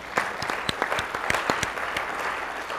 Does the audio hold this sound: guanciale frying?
no